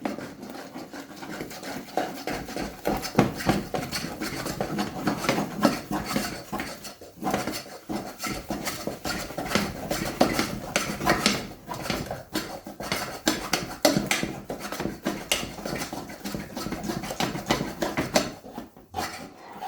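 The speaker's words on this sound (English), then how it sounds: "So tip your flour straight in, and then you have to stir really quickly." A spoon beats flour rapidly into hot choux pastry dough in a metal saucepan, a busy run of scraping, clattering strokes against the pan that goes on steadily with brief pauses and no talk.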